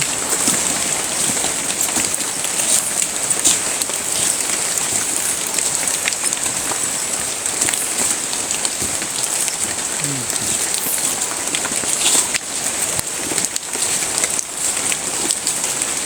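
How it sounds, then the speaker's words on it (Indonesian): Steady rain patters and drips through foliage, a dense continuous hiss with scattered heavier drops, with no voices. "Soalnya terhalang sama suara hujan atau rembesan air hujan yang dijatuh di pohonnya."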